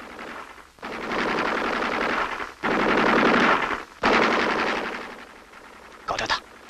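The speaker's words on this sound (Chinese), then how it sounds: "这是敌人值班机枪" An enemy machine gun fires in a 1960 Chinese war film, three long rattling bursts separated by brief pauses, loud and close, followed by a short final crackle.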